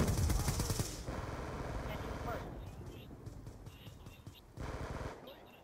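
Rapid LMG machine-gun fire in Call of Duty Black Ops 2, a loud burst of automatic shots at the start followed by quieter gunfire and game noise, with another burst near the end.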